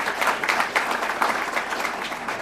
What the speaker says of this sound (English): Give yourselves a great round of applause.